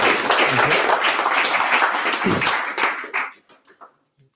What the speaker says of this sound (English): Big round of applause for Joad, everyone